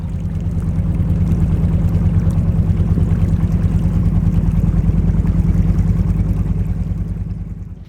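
A boat travels on the Jamuna river, its steady droning engine loud and close throughout, with a constant low rumble and water wash and no talk.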